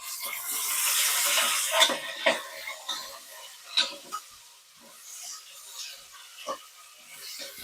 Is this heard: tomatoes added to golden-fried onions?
yes